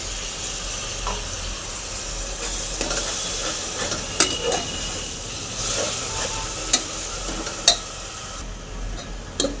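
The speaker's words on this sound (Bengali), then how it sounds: "কিছুক্ষণ এরকমই নাড়তে থাকবো" Tomato paste frying with ginger and garlic in a pan, a continuous sizzling hiss punctuated by several sharp spatula scrapes and clinks as it is stirred, close up and without any voices.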